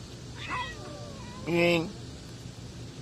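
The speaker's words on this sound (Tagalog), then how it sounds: "Oh, may dumating pang isang itim na pusa." A cat, with a black cat arriving, gives a single clear nearby meow that rises and falls, with a second fainter meow just before it over low background noise.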